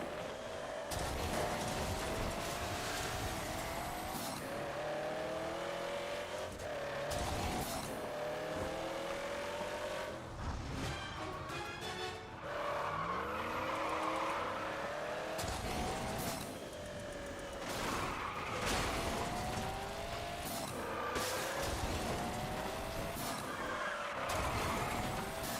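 Racing cars in MotorStorm Apocalypse on PS3, engines roaring and revving continuously with skids, tire squeals and crashing impacts, loud and busy throughout with a few vehicles passing close.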